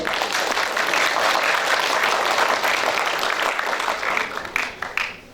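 Audience applause fills a hall at a 70th jubilee celebration, loud, dense and sustained, then thinning into scattered claps as it fades near the end.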